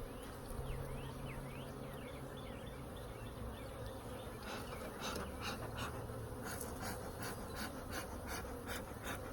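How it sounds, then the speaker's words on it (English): Honey bees buzz steadily and close all around a beekeeper, a dense droning swarm with occasional nearer passes swelling over the constant hum. "They are all around me all of a sudden. I'm sure you can hear them buzzing."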